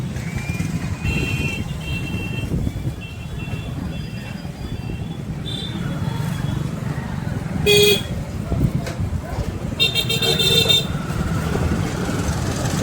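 Busy street traffic in Mahuva, with engines rumbling steadily and several car horns honking in short bursts, one long toot and later clustered beeps, loud and close, with people talking beneath.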